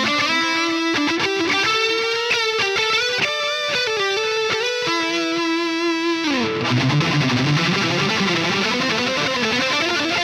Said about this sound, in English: So delay in the FX loop sounds like this.